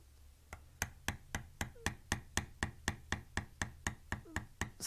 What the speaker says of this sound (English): This will take a little time to bevel around everything.